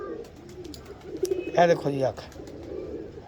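Pigeons coo close by in short throaty bursts that peak mid-clip, while someone talks over them in a loft setting.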